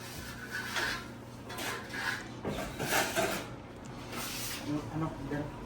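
Steady scratchy rasping of sandpaper rubbing on a surface in repeated back-and-forth strokes, close by, with some faint background voices.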